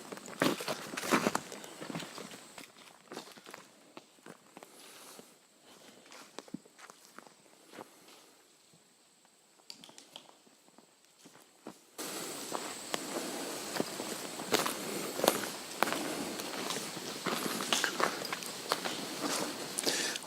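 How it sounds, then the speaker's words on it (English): Acorns dropping from the trees around a forest clearing, scattered sharp ticks and thuds at irregular intervals over a quiet outdoor hush that grows busier and brighter partway through. "All you can hear is the sound of falling acorns in the trees around here."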